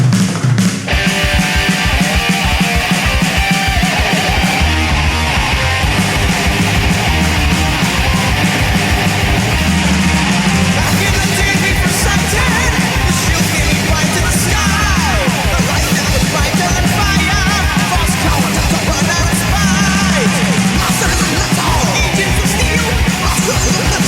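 A loud, dense thrash metal recording plays, with pounding rapid drums, distorted guitars and shouted vocals continuing without a break.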